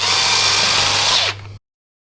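Loud, steady whirring of a power tool spinning out the cylinder head bolts on an Alfa Romeo Giulietta Cloverleaf, running continuously for over a second before winding down abruptly, with no talk.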